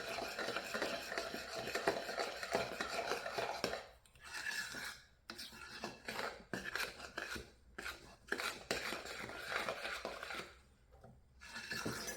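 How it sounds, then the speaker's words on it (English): Bread flour gets stirred into a mixture in a bowl, producing rhythmic scraping and knocking of a utensil against the bowl in bursts separated by short pauses, close and fairly quiet. "And then just stir it up."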